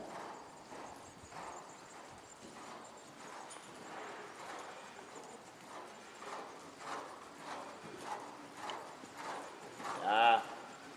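A horse's hooves clip-clop steadily through a dressage training session at Perring in May 2018, soft and moderately distant, ending in a short whinny; a trainer's voice is heard faintly.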